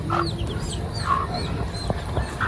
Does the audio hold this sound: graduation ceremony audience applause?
no